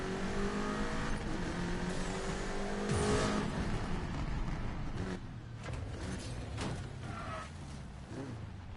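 A Subaru WRX in the racing game Need for Speed Payback drones with a steady engine note that rises and falls as it revs, with brief tire squeal and a few sharp mechanical hits later on.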